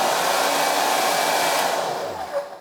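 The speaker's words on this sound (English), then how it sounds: "connect a regular hair dryer as the load" A hair dryer blows with a steady, loud airy whir, then starts to wind down at the end as a relay set to 5 amps disconnects it.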